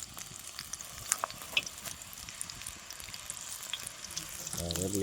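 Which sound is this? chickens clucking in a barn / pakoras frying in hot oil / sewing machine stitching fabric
pakoras frying in hot oil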